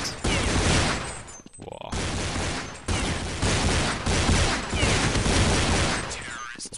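Rapid Counter-Strike gunfire on de_inferno erupts in loud, dense bursts of shots in a competitive match, with a brief gap before more firing; a voice exclaims over the shots.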